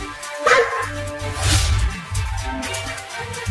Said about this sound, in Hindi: वो देखो, वो कुत्ता फिर से आ रहा है, और देखो वो एक और कुत्ता को भी लेकर आ रहा है